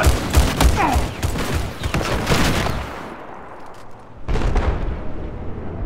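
Battlefield 4 plays out with dense gunfire and heavy C4 blasts, loud booming bursts that thin into a quieter stretch before another loud volley of shots and rumbling explosions.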